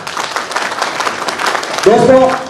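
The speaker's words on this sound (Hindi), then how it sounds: "एक बार अपने आप के लिए जबरदस्त ताली।" An audience claps at a leadership development program event, a short burst of applause under the ongoing voice of a speaker addressing the room.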